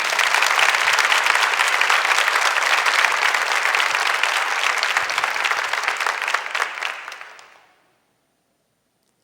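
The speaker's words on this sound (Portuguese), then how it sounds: "Vamos aplaudir essa palavra?" A church congregation applauds together in a sustained, dense burst of clapping for about eight seconds, then it fades quickly to silence.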